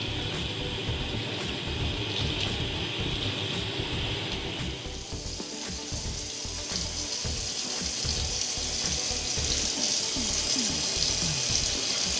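Steady tap water runs and splashes continuously while hair is being washed, close and fairly loud, with a slight change in the spray's texture partway through and no voices.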